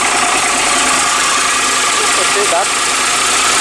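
A car engine idles steadily, turning over with a constant loud rumble and faint knocking throughout, while someone briefly speaks over it.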